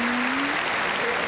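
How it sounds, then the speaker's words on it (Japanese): Audience applause in a gymnastics arena during Nadia Comăneci's 1979 floor exercise, a steady dense wash of clapping with a faint sustained tone running underneath. "拍手です。"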